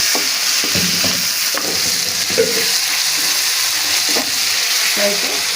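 Onions, turmeric, ginger and garlic fry in a pan for a gokarkaya curry, a constant close sizzle with occasional stirring scrapes and clinks throughout, with no speech.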